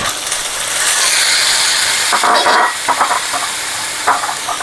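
Banana stem is tipped into a hot pan with ginger, green chilli and cumin paste and stirred, producing a loud, steady frying sizzle with scraping spatula strokes partway through.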